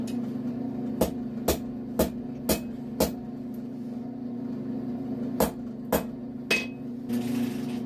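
Hot chain links are hammered together during forge welding: about ten sharp metallic strikes land in an uneven rhythm, roughly half a second apart, over a steady low forge roar.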